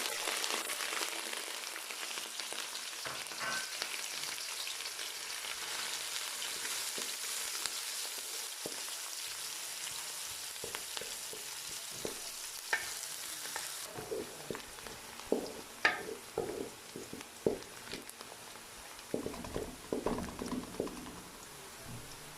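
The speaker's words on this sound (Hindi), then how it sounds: "ऑयल हमारा गर्म हो चुका है, अब हम इसमें प्याज डालेंगे।" Onions frying in hot oil, a steady bright sizzle throughout, with occasional stirring clicks and bubbling pops growing busier toward the end.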